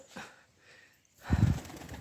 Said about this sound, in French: Oh, un pigeon.